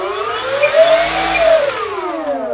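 An electric motor on an Arrows Hobby Sky Cruiser model plane whines steadily, its pitch swelling up and then easing back down as the throttle moves, close and continuous with no talk over it.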